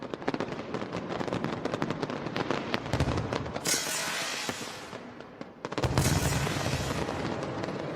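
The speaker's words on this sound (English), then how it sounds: "Noise is a really important part of a firework display." Dense, continuous fireworks with rapid crackling bursts and heavy booms, loud and close, swelling into two big roaring volleys.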